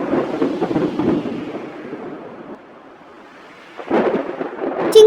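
Thunder rumbles through rain in an animated tale of a bird family, loud and rolling at first, easing to a quieter lull, then swelling again with a sharp crack near the end.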